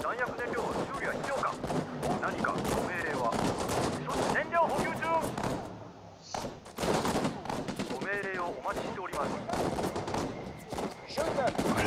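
Rapid gunfire from the World War II strategy game Sudden Strike 4, Pacific War Japan campaign: dense overlapping rifle and machine-gun bursts, nearly continuous with a brief lull, while someone talks over it.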